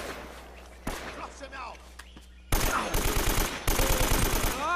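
AK rifle fire in the video game Uncharted: Drake's Fortune, played on PS5, comes as loud, close rapid bursts of automatic shots, the second half dense and repeated.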